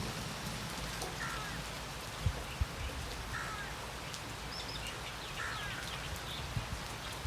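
Steady rain patters down across the whole stretch, with a few louder drips landing nearby and a crow cawing faintly in the distance.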